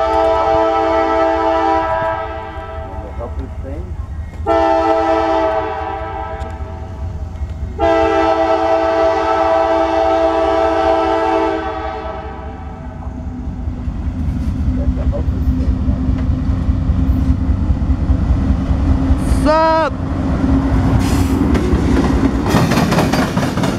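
A CSX northbound power move and an NS southbound coal train meet in Marion, Ohio, with long loud horn blasts followed by steady rolling rumble and rail clatter as the cars pass close by.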